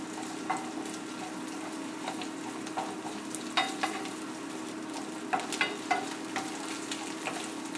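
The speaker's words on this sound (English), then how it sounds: "Stir this around a little bit. Mix it up with this tomato paste." Tomato paste being stirred in a hot pan with butter, olive oil, shallots, garlic and red pepper flakes: a steady close sizzle with irregular scraping clicks of the spoon against the pan.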